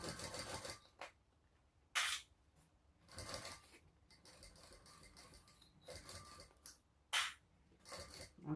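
Sewing machine stitching around the outer perimeter of a fabric shoulder sling bag, heard as several short bursts of fast mechanical clatter separated by quiet pauses.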